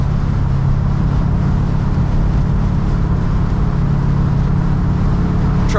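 A 1968 Chevrolet C10 truck cruising along, its engine and road noise forming a steady, loud low rumble that holds without a break.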